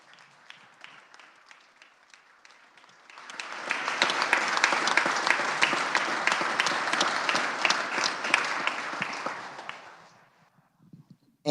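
Applause breaks out among senators in the Kansas Senate chamber, rising from a quiet room into several seconds of full, steady clapping before tapering off to near silence.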